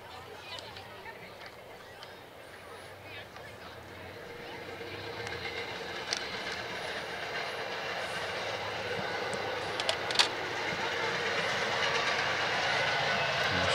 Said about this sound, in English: Just got a train going by in the background.